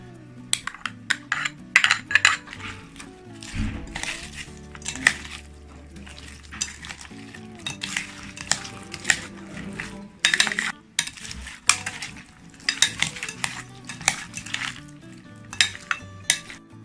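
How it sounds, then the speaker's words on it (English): Fried squid, shrimp, pineapple chunks and dressing being tossed together in a large bowl, with repeated irregular clinks and scrapes of a utensil against the bowl, close and fairly loud throughout. "In a large bowl, combine fried squid and shrimp, pineapple chunks, and dressing. Mix well."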